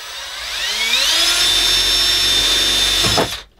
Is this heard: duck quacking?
no